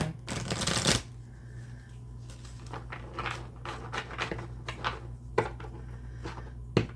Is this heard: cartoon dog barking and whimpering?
no